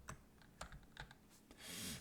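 Keystrokes on a computer keyboard with a sticky, faulty toggle key, a handful of sharp clicks spaced unevenly, then a brief hissy burst at the end; close and fairly quiet, no talking.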